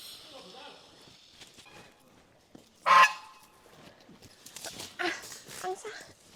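A goose honks in one loud burst amid quiet rustling and scattered small noises just before it is slaughtered, with a person talking nearby.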